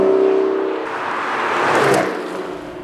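The 5.9-liter V12 of a 2014 Aston Martin revs hard, starting with a steady drone and then rising into a loud, swelling roar before easing off, close by with no talk.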